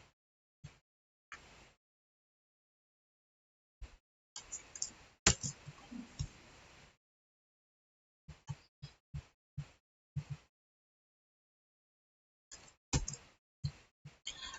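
A computer mouse gives sparse, quiet single clicks and short clusters of clicks at irregular intervals, separated by silence, with a brief stretch of soft rustling in the middle.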